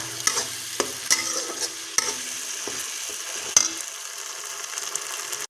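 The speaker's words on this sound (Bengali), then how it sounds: "এবার টমেটো আর কাজু পেস্টটা দিয়ে দিলাম" Tomato and cashew paste fries in a pan for paneer, with a sizzling hiss broken by repeated scraping, clacking strokes of a spoon being stirred through it.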